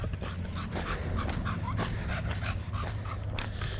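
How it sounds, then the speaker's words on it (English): A dog pants steadily and close by during a run outdoors, quick rhythmic breaths with small whimpering and whining sounds mixed in, at moderate loudness and without speech. "If it sounds like something's panting"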